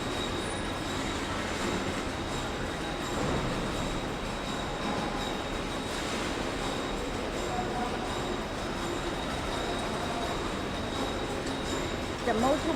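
A TIG welding window frame forming machine with forming rollers and a 15 kW motor runs with a steady, loud industrial rumble and grinding hum, continuous throughout, with faint talk underneath.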